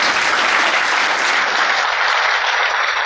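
Steady, dense applause from an audience honoring a young football team, loud and sustained with no pauses and no voices on top.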